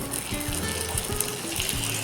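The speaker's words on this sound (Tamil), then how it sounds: "இப்போ நம்ம ரெடி பண்ணி வச்சதை ஃப்ரை பண்ணி எடுத்துக்கலாம்" Fish wrapped in banana leaf fries on a hot oiled tawa, giving a steady soft sizzle overlaid with repeated low thumps and crackles.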